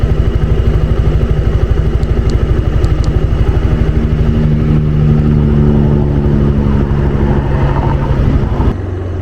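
A loud, steady 2019 Suzuki Burgman scooter engine hums and buzzes throughout while riding, close up, with faint clicks and a sudden drop in level near the end.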